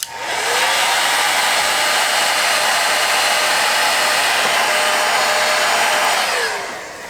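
A heat gun shrinks heat shrink tubing on the rewired car wiring of a Ford Fairlane, a steady loud blowing roar that holds evenly for several seconds before trailing off, with no talking.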